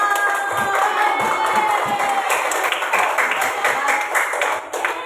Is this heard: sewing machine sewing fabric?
no